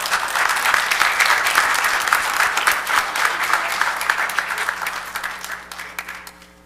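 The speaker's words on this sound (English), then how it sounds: "We can have a round of applause." Sustained applause from an audience at a city council meeting, many hands clapping densely and loudly before tapering off toward the end.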